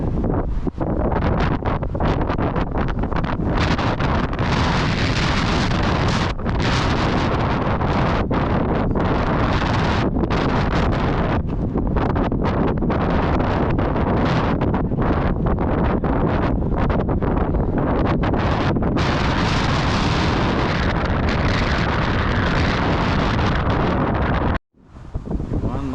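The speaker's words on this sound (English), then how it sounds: "trying to stay out of the wind" Strong wind buffets the microphone outdoors near the Queen Mary in Long Beach, with loud, continuous roaring gusts for most of the stretch before a sudden brief drop-out near the end.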